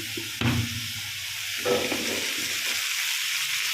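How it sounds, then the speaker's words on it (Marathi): Onion roasting in a pan over a full gas flame makes a steady, fairly loud sizzle with a couple of brief scraping stirs, with no talk. "कांदा 5 मिनटं पहिल्यांदा असा फुल गॅसवरच भाजायचा, चांगला पटकन भाजला जातो"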